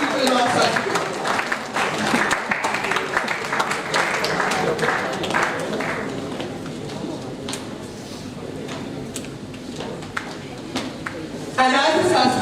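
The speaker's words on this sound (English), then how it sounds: "We should not stop applauding" Applause fills a hall at a national conference as the audience honors dignitaries. The clapping is sustained and fairly loud and thins midway, with speech-like sound mixed in and a sharp swell near the end.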